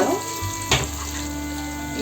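Cashews and onions frying in a pan for chicken pulao give a short, close sizzle with a brief scrape of stirring midway, a steady hiss under a faint background hum.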